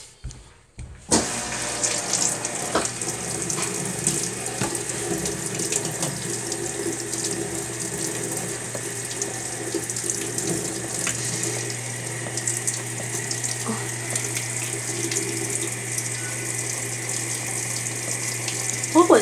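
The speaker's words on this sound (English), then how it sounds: "Now we're gonna do a rinse." A washing machine fills with water for a rinse cycle, with a steady rushing inflow starting abruptly after a second of near-silence and running loud and constant, a low mechanical hum beneath it.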